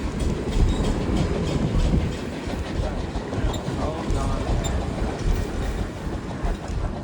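Steam locomotive R&N 2102 hauling a long string of passenger cars near the top of a mountain grade at Penobscot, Pennsylvania, heard as steady close rumble and rail clatter throughout, with faint voices mixed in.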